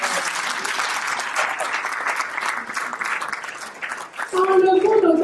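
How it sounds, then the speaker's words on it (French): An audience applauds steadily for several seconds, a dense wash of clapping, before a voice comes in over the end. "Applaudissez pour vous-même."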